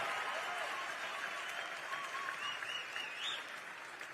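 A large crowd at a political rally applauds in a continuous wash of clapping and cheering, heard quite faint and distant, with occasional shouts rising above it.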